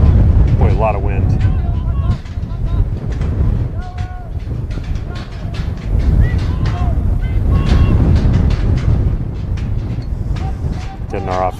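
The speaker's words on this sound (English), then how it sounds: "a lot of wind" Strong wind roars across a microphone at an outdoor high school sports game, a loud, continuous buffeting rumble that never lets up, with voices talking over it.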